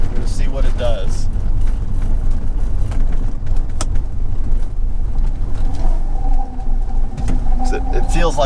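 A Jaguar E-type held in low gear as its engine is pushed hard, a loud, close, continuous rumbling roar with rising tone over road noise, with someone talking over it.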